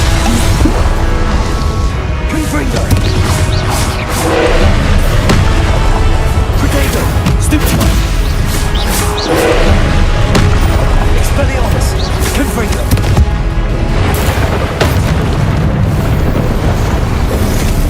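Confringo blasting spells go off in the video game Hogwarts Legacy, a dense loud barrage of booming explosions and crashing impacts that continues almost without pause, with game music and effects layered underneath.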